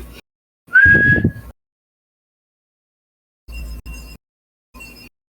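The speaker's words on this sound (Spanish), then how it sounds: "Un silbido fuerte." A single loud human whistle during a tabletop role-playing game session: one brief, strong note that rises and then holds steady, heard alone. A few short, muffled bursts of noise follow after a quiet gap.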